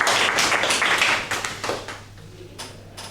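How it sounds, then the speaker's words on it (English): A room full of people at a speaking-club meeting claps, the applause loud at first and then thinning out to a few scattered late claps. "A big round of applause for the leadership shown by the conductor."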